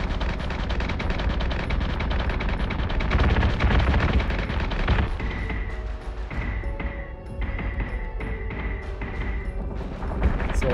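Sci-fi spaceship weapons fire from the Battlestar Galactica Deadlock game, a dense, loud barrage of rapid shots with booming low rumble, sustained throughout and thinning slightly midway into separate bursts and tonal zaps.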